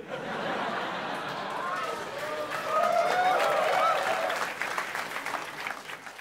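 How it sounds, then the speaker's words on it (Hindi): Studio audience on a talk show breaking into applause, a dense wash of clapping that swells midway and tapers off with some scattered laughter and voices mixed in. "छोटी सी ताली बजी ऐसा लग रहा चपाती लगा रहे थे"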